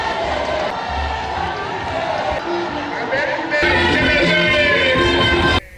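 A crowd greets the bishop at an episcopal ordination in Dolisie, a dense roar of voices and cheering that swells louder partway through, heard alongside spoken commentary.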